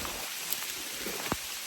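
Heavy rain pours down beside a creek in a steady, dense hiss, with a couple of faint drips or taps cutting through, and no talking.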